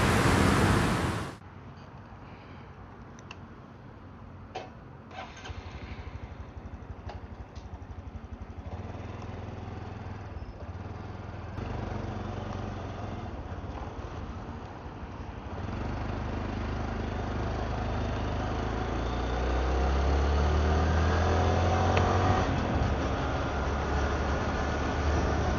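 Motorcycle engine droning steadily while riding, captured from a chest-mounted camera with wind rush, the engine growing louder and deeper toward the end.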